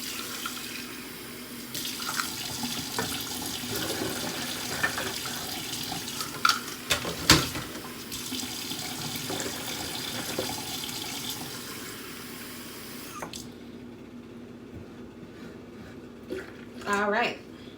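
Water runs from a tap in a steady hiss while it is added to a pan of Southern smothered chicken wings, with kitchen clinks breaking in and the flow stopping near the end.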